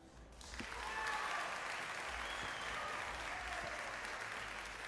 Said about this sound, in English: round of applause from the other table